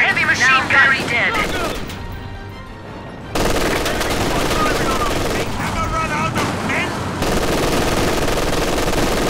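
Machine gun fire in the strategy video game Company of Heroes 2, loud sustained bursts mixed with explosions and battle noise, with voices shouting over the din.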